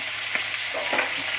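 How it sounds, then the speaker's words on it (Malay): Minced pork and onions frying in oil, a dense steady sizzle up close, with soft scraping from stirring running through it. "Dan goreng, masukkan minyak dan bawang, dan goreng hingga bawang kuning."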